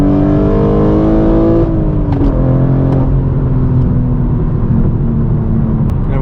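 A straight-piped BMW M4 G82 with an equal-length mid pipe accelerates hard, its loud, close exhaust rising in pitch through the revs, easing off, then pulling again as a strong throaty roar, with no talking.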